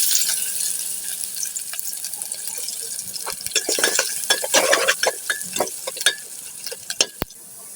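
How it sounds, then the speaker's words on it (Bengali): Onions frying in hot oil in a cooking pot give a steady sizzle, with irregular scraping and clinking of a spoon stirring, close and fairly loud. "পেঁয়াজটা ভাজা ভাজা হয়ে গেছে"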